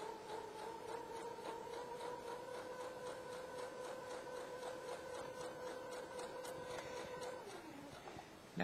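A sewing machine runs steadily while topstitching a quarter-inch second row along the presser foot edge, giving a faint, even mechanical whir with a fast stitch rhythm that slows and stops near the end.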